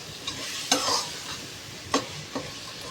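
Biryani ingredients stirred in a frying pan, a steady low sizzle broken by a few scraping strokes of a spoon, close and alone with no voices.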